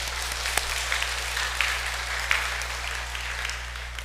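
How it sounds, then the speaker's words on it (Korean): A Korean church congregation gives applause of praise during a Sunday service, continuous, even clapping over a steady low electrical hum, with a few sharper claps standing out. "우리 그와 같은 감사의 고백을 담아서 우리 하나님께 영광의 박수 돌리겠습니다"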